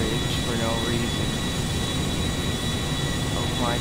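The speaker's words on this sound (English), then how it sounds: "These planes are actually pretty fast for their size." A large airplane in a video game flies with a constant loud engine roar and a steady high whine, unbroken throughout, with faint voice-like sweeps passing over it.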